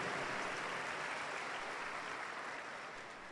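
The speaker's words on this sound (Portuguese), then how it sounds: "A ela uma salva de palmas." A Mass congregation applauds the canonisation of Saint Mother Teresa. The clapping is dense and sustained, heard from across a large church, and fades slightly toward the end with no voices over it.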